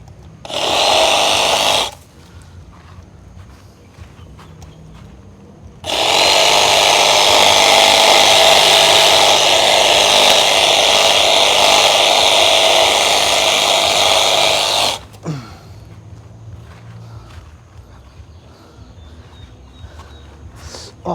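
A loud power saw with a dull, worn blade whines in two bursts cutting pine tree branches, first short, then a long steady cut of about nine seconds, with quiet outdoor background between.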